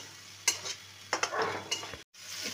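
A paste of ground coriander, cumin and turmeric hits a hot pan for a vegetarian banana-stem curry, bursting into close sizzles and stirring scrapes in short spurts, with a brief silent gap near the end.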